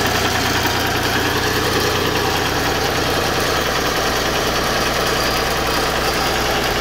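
A Lincoln SA-200 welder's engine idles loud and close in a steady, unbroken drone with a rough mechanical rattle throughout, no talk.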